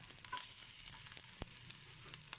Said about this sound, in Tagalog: gisa lang natin tong sibuyas saka bawang